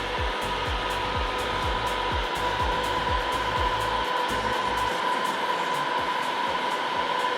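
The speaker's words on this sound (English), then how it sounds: "Just turn the gun up a little bit. Got the gun set at 600 degrees." A heat gun set to 600 degrees blows a loud, steady roar of hot air onto vinyl van wrap, with a constant whine running unbroken throughout.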